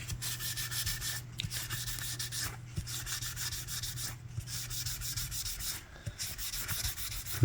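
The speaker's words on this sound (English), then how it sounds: "She's using a little naphtha to remove some of the accumulated grime." Steady dry rubbing and scrubbing with naphtha on a bass guitar body, a continuous close swishing with brief pauses between strokes.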